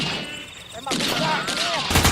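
Gunfire from a battle scene in a Sundanese film made for Indonesian Independence Day in Subang, West Java, a dense loud fusillade of rapid shots mixed with shouting voices.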